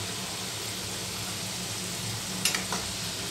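Shankarpoli pieces frying in hot oil give a steady, even sizzle that hisses throughout, with a couple of brief clinks or scrapes partway through and no voices.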